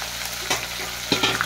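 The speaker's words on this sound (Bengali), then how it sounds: "আমি পেঁয়াজ কুচিগুলো দিয়ে দেবো।" Chopped onions hit a hot pan for a chicken and new potato curry and are stirred, giving a steady close sizzle with two or three sharper scraping stirs near the end.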